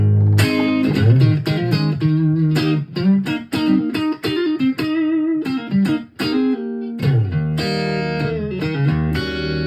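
Clean electric guitar on the neck pickup with a warm, round tone, picked notes and chords ringing out in a steady melodic phrase, no reverb, delay or effects, played alone and up close.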